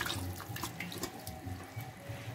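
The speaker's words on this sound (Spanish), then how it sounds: "Si ve que le hace falta un poco de agua, un poquito, entonces procedemos a agregarle el restante" Water poured from a tap into a pot of rice being prepared Colombian coastal style with black-eyed beans, a steady close splashing stream with light dripping, no talk.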